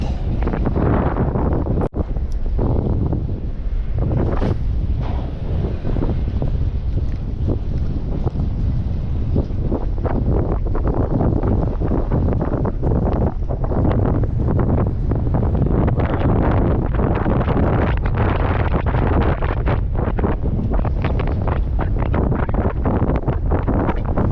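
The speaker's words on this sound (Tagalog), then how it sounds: "Mahangin talaga." Strong, constant wind buffeting the microphone while fishing, a loud low roar with gusty rumbling throughout.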